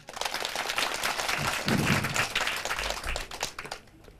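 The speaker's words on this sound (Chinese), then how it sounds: "再次以掌声欢迎他们" An audience at a public lecture hall applauding, dense steady clapping from many hands that swells and then fades after a few seconds.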